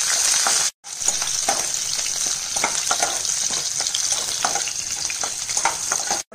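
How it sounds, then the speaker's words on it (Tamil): Curry leaves, green and dried chilies and ginger sizzle and fry steadily in a hot pan, with intermittent stirring scrapes and clinks close by and no talking. "நல்லா வதக்கிடுவோம்."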